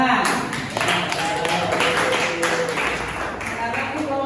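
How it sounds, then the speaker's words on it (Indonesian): A classroom group claps hands in an Islamic religious education lesson, a dense burst of clapping with voices talking over it, fairly close and steady. "Ya, tepuk tangan."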